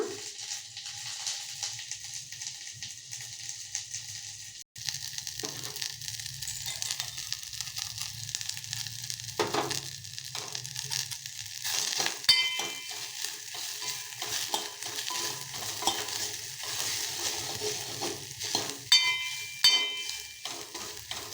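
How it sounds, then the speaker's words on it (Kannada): Grated coconut and roasted gram frying in a tempering, with a steady close sizzle and repeated stirring and scraping in the pan throughout. No one speaks. "ಅರ್ಧ ಹುಳು ತೆಂಗಿನಕಾಯಿ ತುರಿ ತುರಿದಿಟ್ಕೊಂಡಿದ್ದಲ್ಲ ಅದು ಮತ್ತು ಒಂದು ಟೇಬಲ್ ಸ್ಪೂನ್ ಹುರ್ಗಡ್ಲೆ ಇದೆರಡೂ ಸಹ ಒಗ್ಗರಣೆಗೆ ಹಾಕಿ ಸ್ವಲ್ಪ ಚೆನ್ನಾಗಿ ಬಾಡಿಸ್ಕೊಳ್ಳೋಣ"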